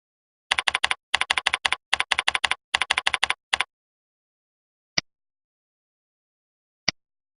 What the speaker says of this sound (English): We type the tool description.